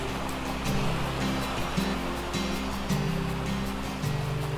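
A river running into the sea in the game ARK gives a steady, soft wash of surf and flowing water, with a low droning hum underneath and gentle swells recurring every second or so.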